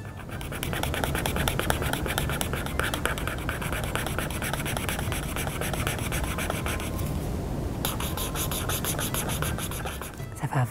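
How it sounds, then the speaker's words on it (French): Pen strokes scratching steadily across paper while filling in a manga character's face, a continuous close rubbing texture with a brief pause near the end and no talking. "Tu entends le bruit du stylo sur papier"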